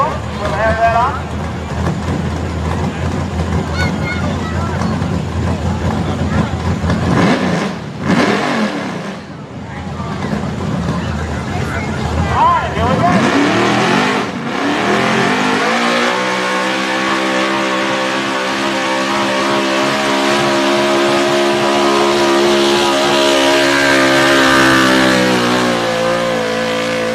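A pulling truck's engine roars and revs hard at a truck and tractor pull, loud and sustained with surging pitch, under an announcer talking over the track.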